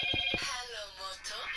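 A phone rings nearby, a short electronic ringtone sounding as a few quick tones, with a voice speaking over it.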